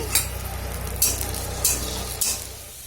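Chopped onions fry in hot mustard oil for a rohu fish dish, with a continuous sizzle broken by four sharp stirring scrapes spaced about half a second apart.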